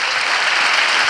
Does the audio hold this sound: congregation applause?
yes